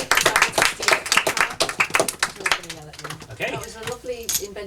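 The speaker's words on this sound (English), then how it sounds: "Should we give a round of applause?" Small group clapping at a literary society meeting, a few hands patting unevenly and close by, thinning out after a couple of seconds while people chat and a voice speaks over the end.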